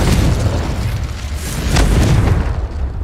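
A Confringo blasting spell detonates in Hogwarts Legacy with a loud, close, rumbling boom that roars steadily for about three seconds with no voices.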